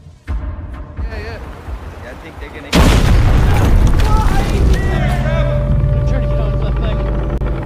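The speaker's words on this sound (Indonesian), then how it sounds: "Kapten Yulaskas tewas terkena bom." A bomb explodes in the war film The Outpost, a sudden loud blast that erupts after quieter talk and rumbles on heavily, with voices continuing underneath.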